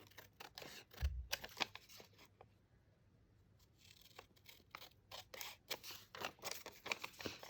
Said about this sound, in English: I'm going to just trim this down.